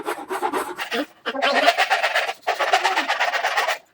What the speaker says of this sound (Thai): เราวัดไซส์แล้วเราก็ใช้ใบเลื่อยนะครับ